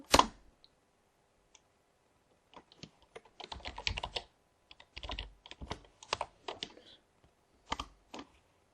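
Keyboard typing while entering Cisco router configuration commands, quick clusters of near, crisp key clicks in uneven bursts separated by short pauses.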